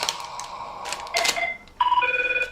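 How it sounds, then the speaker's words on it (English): A phone ringtone goes off, bursts of electronic tones and a melodic ringing pattern that grows louder toward the end, with no talking over it. "Anybody who knows the ringtone, stick it down in the comments."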